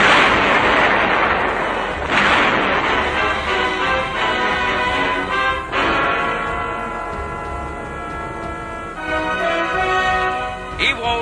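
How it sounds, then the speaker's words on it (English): High explosives blasting Japanese cave fortresses on Iwo Jima, a series of heavy booming detonations with ringing, clanging tails in an old, noisy wartime recording. "Their fortress caves, saturating the island, are wiped out by high explosives."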